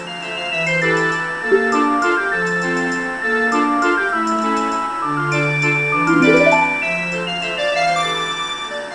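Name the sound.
A melody played on ocarina, video game Zelda Ocarina of Time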